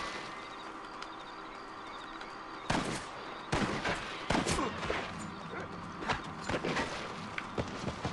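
Scattered gunshots crack in Red Dead Redemption over a quiet ambient bed, arriving as a few sharp isolated blasts and a quick pair, fairly loud against the background.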